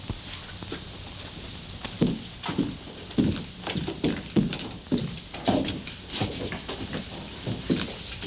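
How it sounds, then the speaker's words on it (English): Horse hooves clip-clop in an uneven run of sharp knocks on hard ground, close and distinct, with no voices over them. "Get my horse."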